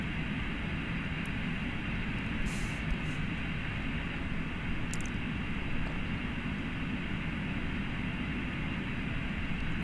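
Steady, moderate jet engine rumble and wind roar from an airliner landing on runway 22 at Haneda in Flight Simulator X, with a few faint high clicks.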